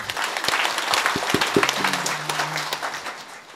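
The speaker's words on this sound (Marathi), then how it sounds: "वाजव जोरात टाळी" An audience at a Marathi kirtan in Nanded claps loudly and rapidly, a thick, sustained wash of hands with a few sharp drum-like hits early on and a held musical tone running underneath.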